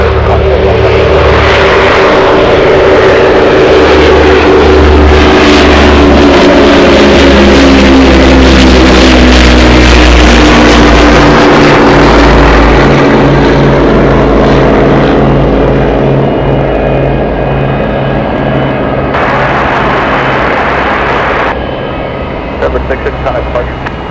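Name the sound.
Boeing 747-200 taxiing across the runway at Anchorage airport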